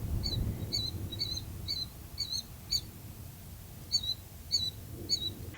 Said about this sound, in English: Occasionally a bird.